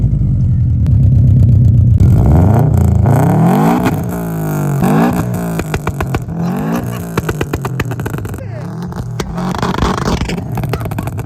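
Subaru WRX STI 8.5 Stage 2 making about 400 horsepower starts and revs up, its loud rasping engine sweeping up and down in repeated blips with crackling pops between them.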